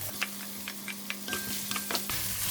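Green chili and onions sizzle gently in a pan with garlic and ginger paste, a steady soft frying hiss broken by small ticking pops and faint stirring clicks.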